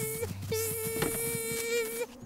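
Cartoon bee buzzing effect: a steady, close electronic-sounding drone that carries on through the clip with a few short interruptions, heard alone without speech.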